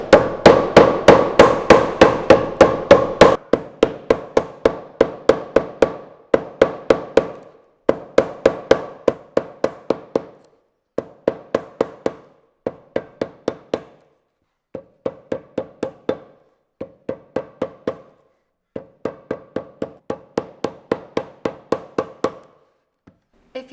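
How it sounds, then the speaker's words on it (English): Shoe footbed layers are hammered flat on a shoe anvil while making mules or slides: a long run of sharp, evenly spaced hammer blows in quick bursts separated by short pauses, close and loud with no talking. "So every hammer hit, you want to make sure is fully supported."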